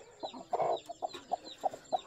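A black hen clucking near a brood of newly hatched chicks, a string of short, soft, evenly spaced clucks with one longer call early on, close by and with no one talking.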